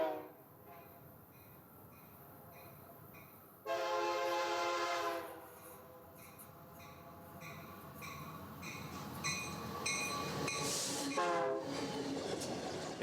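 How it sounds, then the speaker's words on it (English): An empty eastbound coal freight train rumbles past on a siding in a Canadian canyon at East Yale, with long horn blasts echoing and steady wheel clatter, heard from nearby and without talk. "At East Yale, an eastbound empty coal train holds the siding at dusk."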